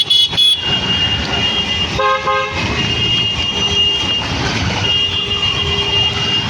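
Car horns honk in a traffic jam on a flooded Mumbai road during heavy rain: repeated short toots and a longer blast ring out close over a steady rumble of idling engines and traffic.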